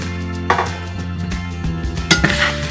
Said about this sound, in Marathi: तोपर्यंत आपण हा मसाला पूर्ण भाजून घेऊया।